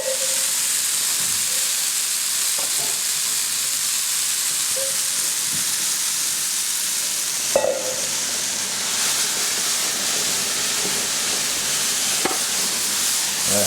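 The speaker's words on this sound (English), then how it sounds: "Just bring it to a boil, and then when you see it starting to boil, then you just cut the temperature down to a low simmer." Peach bourbon barbecue sauce simmering in a pot, a steady soft bubbling hiss that runs throughout, close and even, with a couple of brief clinks partway through and no talking.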